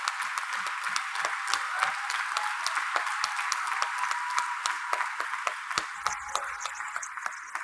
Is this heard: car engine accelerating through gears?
no